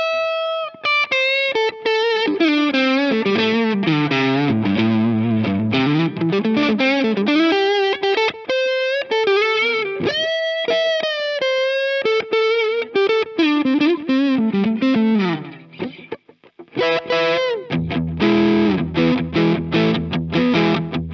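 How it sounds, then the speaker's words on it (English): A Harley Benton CST-24T P90 electric guitar plays loud, sustained lead lines with bends through an effects chain that adds distortion and chorus, ending in heavier crunchy chords, with no one speaking. "the bridge pickup sounds great, the neck pickup sounds great, and together they sound great"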